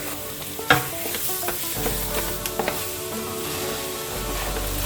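Seasoned Italian sausage meat sizzles and fries in a pot for Zuppa Toscana, a close, constant crackling hiss with a few sharp knocks of a stirring utensil near the start and middle.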